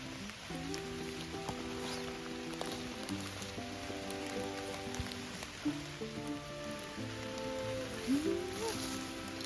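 Rain falls steadily through a forest canopy during mushroom picking, a soft continuous patter on leaves and surfaces with occasional louder drips, heard close but at low level, and no one speaking.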